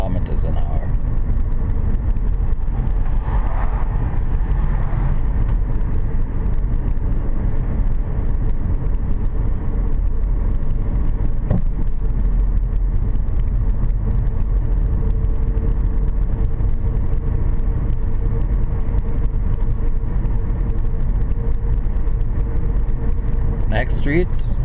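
Interior rumble of a car driving on a road at 40 km/h, a steady low engine and tyre drone throughout with faint cabin noises and a few light clicks.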